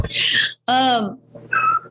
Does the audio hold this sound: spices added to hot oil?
no